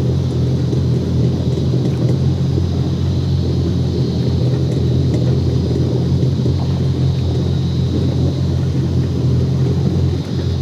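A Yamaha 242 Limited jet boat engine idles on windy water, a steady, loud, unbroken low rumble with a constant hum that holds for the whole stretch, with no voices over it.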